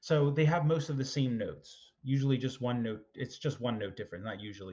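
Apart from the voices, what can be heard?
None of the usual background noises is heard.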